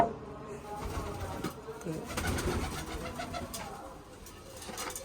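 Soft pigeon coos repeat at a low level amid a murmur of background sound, with faint rustling.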